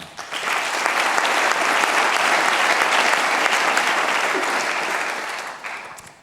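An audience applauds entrepreneurs at Initiative Savoie's 20th-anniversary evening, loud and steady, dense clapping swelling quickly and holding for several seconds before tapering off.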